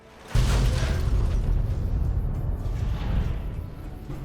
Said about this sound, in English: Ain't we lucky the explosions stayed underground?